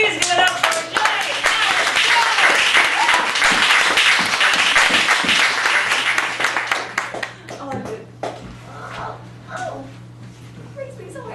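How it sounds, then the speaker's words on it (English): Audience applause for a performer at an open-mic cabaret at a Chicago cafe gallery, a dense burst of many hands clapping that stays loud for most of the stretch, then thins into scattered claps as a kid's voice and murmurs come through. "I don't think that applause was loud enough. Please give it up for Jay!"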